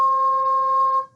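A single sustained flute tone with finger holes covered, steady and pure for about a second before fading, close and alone.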